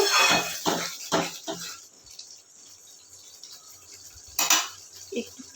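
Water poured into a pan of duck egg curry, with utensil clinks and splashy bursts near the start and again around the fourth second, under brief talk.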